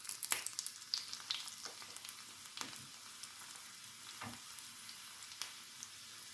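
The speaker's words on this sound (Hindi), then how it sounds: "लहसुन की एक कली को मैंने स्लाइस कर लिया है," Sliced garlic frying in a hot tadka for dal, a soft continuous sizzle broken by sharp crackles and pops, with occasional stirring scrapes, fairly quiet and close.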